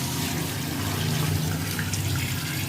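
Measured water pours steadily into a pot for Dindigul-style biryani, a continuous rushing, splashing flow, loud and close, with no talk over it.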